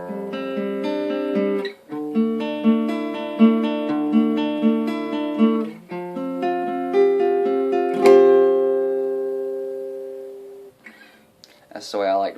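Guitar strumming chords from the verse of a song, played close and clear in sustained ringing strums with decaying notes, ending with a brief muffled sound.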